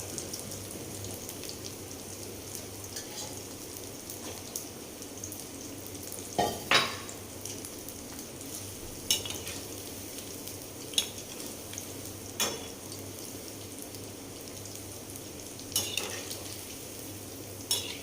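Potato and onion pakoras getting their second fry in hot oil, a continuous bubbling sizzle with occasional stirring clatters and pops, close and fairly quiet, with no voices.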